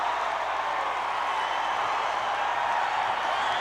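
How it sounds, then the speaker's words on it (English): Capacity crowd roaring in a packed arena during a televised 1980s WWF wrestling show, a loud, continuous wall of cheering and noise with no pauses. "Listen to that crowd, Vince."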